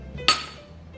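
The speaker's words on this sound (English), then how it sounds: "I can crack an egg with one hand." A single sharp crack as an egg is broken one-handed against a hard edge, a brief faint click in a quiet kitchen.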